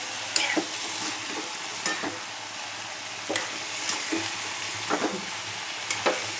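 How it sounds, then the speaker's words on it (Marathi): Cowpea pods frying in oil in a pan, a soft steady sizzle broken every second or so by sharp stirring scrapes and clinks, close up with no speech. "शेंगा टाकल्यात आपण तेलात फ्राय करून घ्यायचं पहिले आपल्याला."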